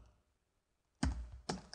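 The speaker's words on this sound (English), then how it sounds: "let's go ahead and just type messagebox.show" Computer keyboard typing code, two brief close key clusters after a quiet pause, soft clacks with low thumps.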